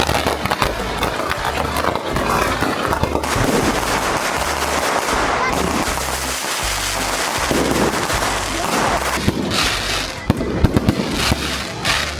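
Fireworks at a street celebration in Antigua Guatemala crackle and bang continuously and loudly, with dense overlapping bursts and sharper pops near the end.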